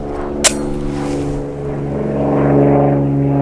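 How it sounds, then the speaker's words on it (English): A propeller airplane drones overhead at a shooting range, a steady tonal hum that swells toward the end, with one sharp gunshot cracking early on. "There's our token airplane."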